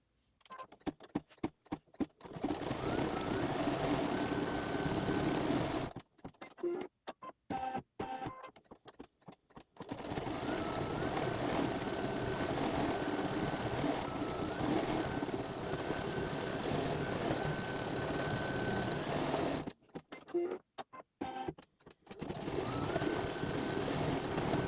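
A computerized embroidery sewing machine stitches lettering into a Christmas quilt block, giving a steady, loud mechanical whirring hum with periodic short pauses and bursts of clicking between stitch runs, heard alone with no talking.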